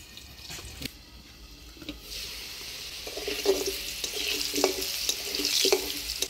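Potatoes fry with salt and turmeric in a Bengali village kitchen, a steady hiss that swells louder partway through, with a few small clinks of a utensil and no talking.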